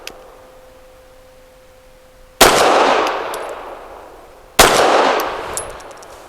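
Two sharp, loud pistol shots from a Walther PD380 single-stack handgun, fired a couple of seconds apart, each cracking hard and then ringing out into a long decaying echo.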